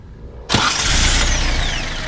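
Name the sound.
Datsun pickup engine starting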